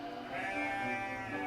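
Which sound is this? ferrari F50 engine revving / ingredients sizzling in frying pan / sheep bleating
sheep bleating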